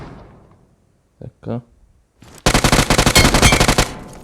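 Rapid automatic gunfire in PUBG Mobile on the Sanhok map, a loud sustained burst of closely spaced shots following a few quiet clicks and shuffles, with no talking.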